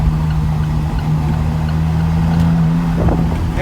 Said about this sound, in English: this engine actually sounds good